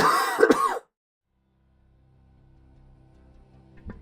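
A single sharp cough bursts out at the start, close and loud, followed by near silence and a faint low hum fading in.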